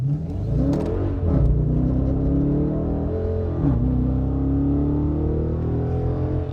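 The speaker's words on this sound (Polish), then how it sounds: "Słuchajcie, tego silnika" A Dodge Challenger Shaker's 5.7 Hemi V8 revs with rising and falling pitch, a deep rumbling growl swelling twice over a steady idle, close and loud.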